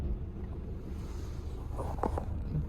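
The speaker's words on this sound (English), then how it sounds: "It's pretty windy." Strong gusty wind blusters past on a stormy day, a low continuous rumble with soft buffeting, joined briefly by a faint thin clatter near the end.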